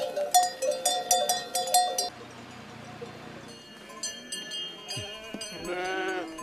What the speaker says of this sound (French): C'est une brebis connectée, c'est ça,